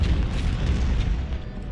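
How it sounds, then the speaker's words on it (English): Cannon firing explosive shot in the Civil War strategy game Ultimate General: Civil War, a deep, loud boom rolling into sustained low rumble across the whole short stretch, with no talk over it. "Fire it, explosive shot into enemy cav."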